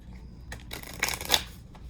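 A deck of tarot cards being shuffled, a quick papery riffle building to a couple of sharper flicks, close and alone without any talking.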